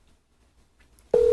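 A telephone call's ringback tone starts abruptly after near silence, a single steady electronic tone heard close and clear at the very end.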